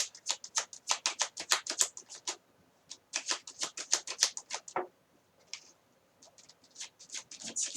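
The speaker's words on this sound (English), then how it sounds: "I shuffle sloppily, but that helps me get the cards out." Tarot cards riffle and slap in quick, sloppy shuffling bursts, a close run of crisp flicks, a short pause, then more rapid flapping, with no voices.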